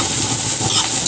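A steady, close, loud sizzle and hiss of fried fish being sautéed in an oil-slicked pan, constant throughout with faint stirring texture.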